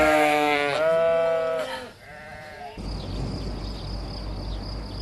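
Sheep bleating during shearing, a few wavering, nasal calls close by, then a steady rustling, buzzing background.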